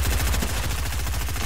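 Rapid automatic gunfire in a multiplayer shooter video game, a steady loud burst of repeated shots running through the whole moment, close and dense with no voices over it.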